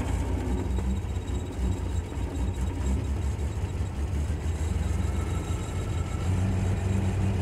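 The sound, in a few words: old van engine revving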